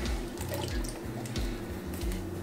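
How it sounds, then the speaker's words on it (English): Undrained canned kidney and chili beans pouring from open cans into a chili pot, a close, continuous wet splashing and glugging of liquid with small lumpy plops, with no one talking. "we're gonna start throwing our open cans into the pot as well."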